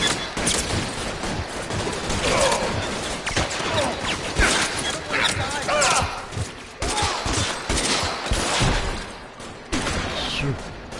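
Gunfire in the L.A. Noire video game during a 1940s Los Angeles shootout: dense, rapid volleys of sharp shots, loud and close, with short gaps between bursts and a brief lull near the end.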